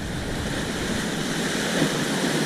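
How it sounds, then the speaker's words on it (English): Ocean waves break and wash against a rocky fishing spot on the coast, a constant roaring surf with a low rumble swelling slightly toward the end, loud and close with no voices. "Just got to keep watching out for the waves"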